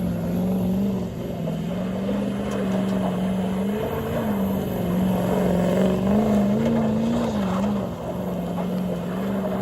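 A stock pickup truck does donuts at an off-road park, its engine holding a loud, wavering drone that rises and falls as it revs through the turns, with no talk.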